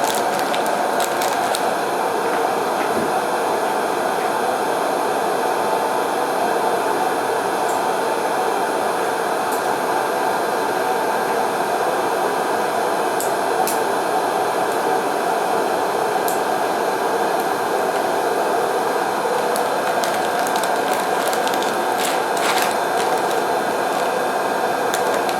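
A Nostalgia air-pop popcorn maker runs empty while heating up, giving a steady, even blower whoosh that holds at the same level from start to finish, with a few faint clicks on top and no talking.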